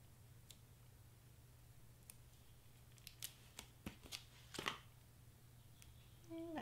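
Scissors cut through craft material while making a Pringles can party favor, producing a few faint, sharp snips close by in a quiet room over a low steady hum.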